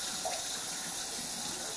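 Hot tap water runs steadily over buttery fingers at a kitchen sink, a continuous close hiss and splash with no talking.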